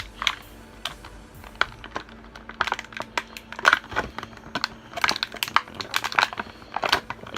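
Plastic packaging crinkles and crunches while a Zootopia Nick and Finnick toy set is unboxed, giving a busy run of close, sharp crackles and rustles with no talking.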